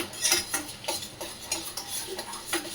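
Egg bhurji being stirred in a pan, with a spoon or spatula clinking and scraping against the metal in a repeated, uneven rhythm, close and moderately loud, with a faint sizzle underneath.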